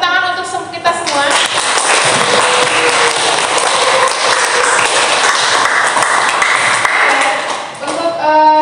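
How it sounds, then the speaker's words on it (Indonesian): Students in a chemistry class clap together, a loud, dense burst of hand clapping lasting several seconds, with a ringing tone sounding before and after the applause. "Kita tepuk tangan untuk kita semua."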